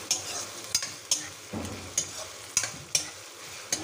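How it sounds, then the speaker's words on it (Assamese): Chopped onions frying in hot oil in a pan for mutton curry, a steady close sizzle punctuated by regular scraping clicks of a spoon stirring, with no talk. "পিঁয়াজখিনি অকণমান ৰঙচুৱা হ'বলৈ দিলোঁ।"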